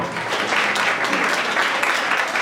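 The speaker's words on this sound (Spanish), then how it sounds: "Démosle un aplauso fuerte al Señor." A church congregation claps loudly together during a Good Friday Seven Last Words service, dense sustained applause filling the room from start to finish.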